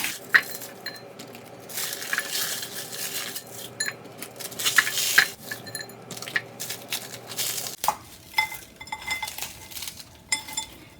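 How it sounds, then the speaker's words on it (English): Crunchy, well-toasted bread being broken by hand into tiny pieces, giving a run of sharp, close crackling snaps and brittle clicks over a quiet kitchen background, with no talking. "So now I'm just gonna break that into tiny pieces."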